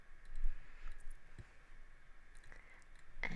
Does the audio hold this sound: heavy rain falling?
no